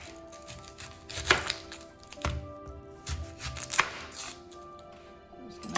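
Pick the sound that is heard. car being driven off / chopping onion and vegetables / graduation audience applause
chopping onion and vegetables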